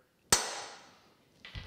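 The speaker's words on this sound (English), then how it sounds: "Take a center punch and just give me a hole to start with." A single sharp metallic strike of a hammer on a center punch marking a steel part of an old cane mill during a knife socket repair, ringing out and fading, followed by a softer knock.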